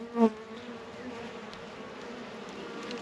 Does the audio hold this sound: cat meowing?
no